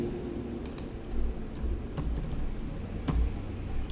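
Code being typed on a computer keyboard while building a basic Express server, a few quick, close key clicks and taps over a low steady room hum, with no speech.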